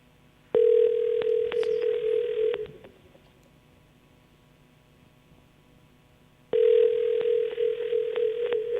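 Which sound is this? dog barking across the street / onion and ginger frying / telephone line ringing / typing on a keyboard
telephone line ringing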